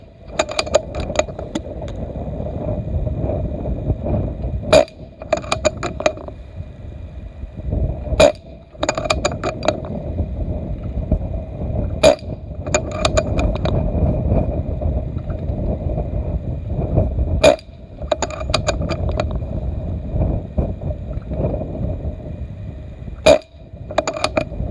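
Air rifle firing cheap pellets at a 50-yard range outdoors, five sharp shots spaced several seconds apart, each a crisp crack over steady wind noise and low rumble.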